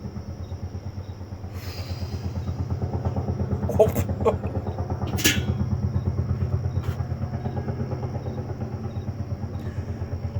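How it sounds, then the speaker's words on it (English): A loud train rumbles steadily past up close, its rhythmic clatter of wheels on rails continuing throughout with a few sharp metallic squeals and hisses, no voices. "I've never heard a train like that before."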